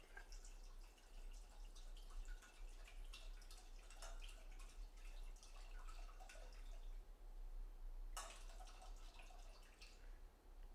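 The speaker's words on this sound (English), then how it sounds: "Start by pouring 2 cups or 2/3 of our bottle of wine into our pot." Two cups of wine poured from a bottle into a cooking pot, giving a steady close liquid splash and trickle with scattered drips, alone with no talking.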